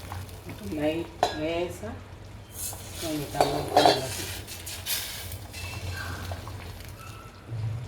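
Hot tempering is poured into a chickpea curry, with clanking metal pot and spoon, a brief sizzle and stirring scrapes, while a voice speaks briefly over it.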